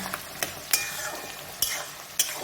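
Large-cut onions frying to golden for Bengali mutton curry, a steady sizzle broken by several sharp scraping stirs of a spatula against the pan.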